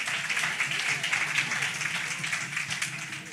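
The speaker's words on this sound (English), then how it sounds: "Clap it up." An audience at a community outreach health session claps, a steady patter of many hands at moderate loudness, with some voices mixed in.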